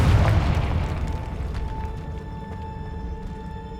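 A Confringo fire spell explodes in the Hogwarts Legacy video game, a single loud booming blast at the start that decays into a rumbling tail with faint ringing tones, heard alone without talk.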